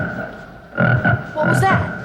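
A sitcom sound effect of a frog croaking, with two or three low, throaty croaks close and fairly loud, followed by a brighter squawk-like burst.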